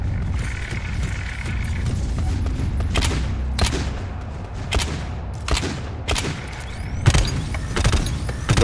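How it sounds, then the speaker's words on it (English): Scatter gun blasts in GTFO, several sharp shots at irregular intervals over a steady game ambience, fairly close and loud. "Just gonna scatter gun it."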